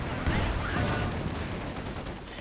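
Field gun and small-arms fire in Company of Heroes 2 form a dense, continuous rumble of overlapping battle noise at moderate loudness.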